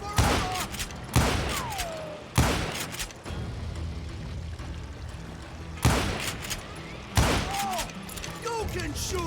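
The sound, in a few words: gunfire in the video game Call of Juarez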